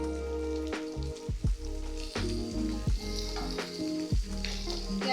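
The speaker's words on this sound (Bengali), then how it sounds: "পেঁয়াজ আর বেগুনটা একটু ভাজা হোক।" Chopped onion and small pieces of brinjal sizzle steadily in a pan, with repeated scraping stirs and clunks cutting through the close, continuous frying.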